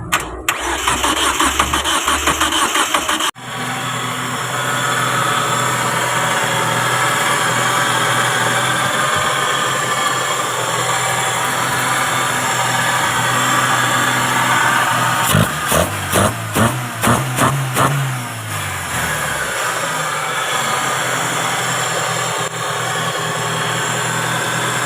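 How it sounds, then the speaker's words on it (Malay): A Proton Wira car engine, after the car was submerged in a flood, cranks and catches, then settles into a steady, close idle; a short burst of revving pulses comes midway before the hum evens out again. "Okey, kereta pun dah boleh start."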